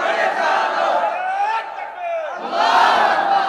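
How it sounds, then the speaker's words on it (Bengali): Large crowd at a religious gathering shouting the takbir, Allahu Akbar, in loud unison: a sustained roar of voices that dips briefly and then swells again even louder. "দাও একটা তাকবীর দাও জোরে।"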